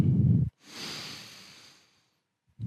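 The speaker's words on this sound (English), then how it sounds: "Find that slow, controlled breathing." A single slow, controlled breath during a stretching routine, a soft airy exhale that swells and fades over about a second and a half, close and alone between short bursts of low voice.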